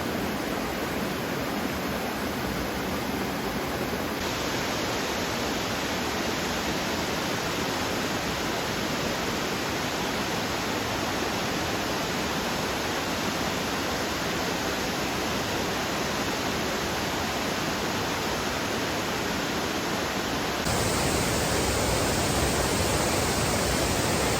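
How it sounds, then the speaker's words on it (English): Laurel Fork Falls on the Appalachian Trail pours in a loud, steady broadband roar that stays constant throughout, a close waterfall with no voices over it. "This is Laurel Fork Falls."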